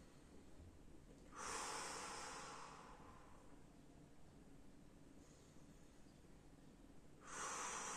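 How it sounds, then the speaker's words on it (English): Breathing during an abdominal vacuum core exercise at home: two strong, breathy inhales or exhales about six seconds apart, each lasting over a second, close to the microphone against a faint background hiss, with no speech. "I've done 5 breathings, right? 5 cycles of breathing."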